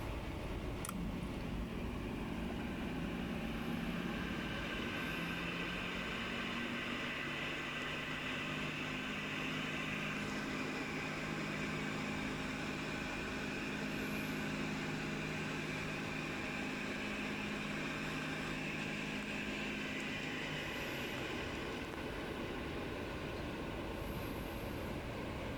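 A Carrier ECM inducer vent motor runs at highest speed with a steady, continuous hum and whir that starts and then settles to an even drone, heard close with no talking.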